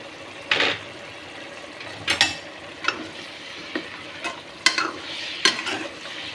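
A spoon scrapes and clatters through vegetable pulao with garam masala in a cooking pan, giving irregular metallic knocks and scrapes over a soft, steady sizzle, with no voices.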